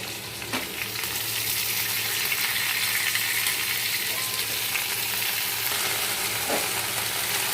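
Bottle gourd greens and fried potatoes sizzle in a hot pan, a steady close-up crackling hiss with a few faint clinks of stirring throughout.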